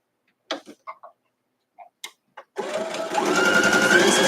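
A sewing machine stitching quilt pieces: a few scattered clicks and taps of handling, then the motor starts and runs in a steady, loud, close whirring hum.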